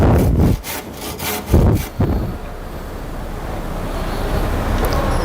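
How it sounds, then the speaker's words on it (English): A handsaw cuts through wooden roof rafters with a few rasping back-and-forth strokes early on, followed by a steady, wind-like hiss. "After every rafter has been marked all the way along your roof, then you can cut them with a handsaw."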